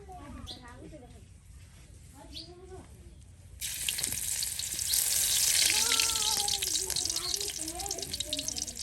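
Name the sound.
cooking oil poured into a pan for curry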